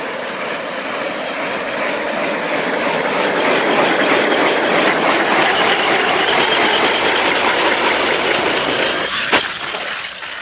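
Arrma Kraton EXB RC car driving in front of a house, doing spins and cyclones: a steady, loud high-pitched electric motor whine with gravel-like hiss throughout, and a brief sharp click near the end.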